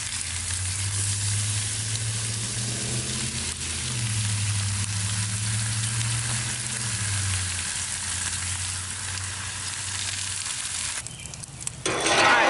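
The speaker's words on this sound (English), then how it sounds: "we're going to add the last of our bacon to the grill so it can cook." Bacon sizzles steadily on a Blackstone griddle, a dense, continuous crackling hiss heard close up, with a low hum underneath and a brief clatter near the end.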